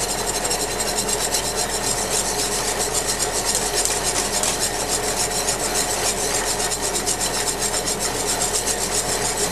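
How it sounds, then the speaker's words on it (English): Flour is whisked steadily into a thickening sauce, a dense continuous rapid scraping and rubbing of the whisk against the pan, close and unbroken, with no speech. "Add another heaping teaspoon of flour slowly. Whisk it as we add it."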